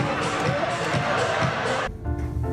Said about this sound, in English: The crowd's going wild.